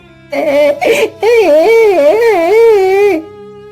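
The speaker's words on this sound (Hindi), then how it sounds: "अरे ये रोने की आवाज किसकी है?" A boy cries under a tree, one loud continuous wailing sob with a brief catch in the breath before the long, wavering cry.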